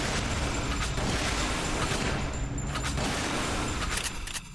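Shotgun blasts in Resident Evil: Umbrella Chronicles, dense booming fire through a loud, constant wash of game noise, several sharp reports standing out toward the end.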